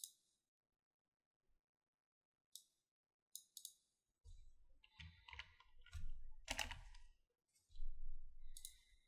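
Keyboard keys being typed while a label is entered in technical drawing software for laying out a 90° steel pipe bend, in short bursts of clicks scattered through the clip with quiet gaps between them.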